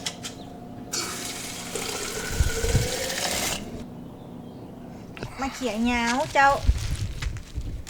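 Tap water runs in a steady rush into a big pot to soak freshly picked home-grown vegetables, with clattering handling noises and people talking close by.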